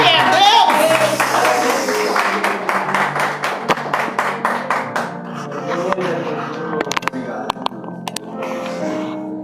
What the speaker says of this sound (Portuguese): Os palmas louvam ao Senhor Jesus.